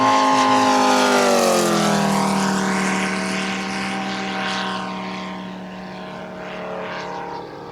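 A Moki 250 radial engine on a Carf AT-6 Harvard model airplane at a flying demo, a loud droning roar that shifts pitch as the aircraft passes and then fades slightly into the distance.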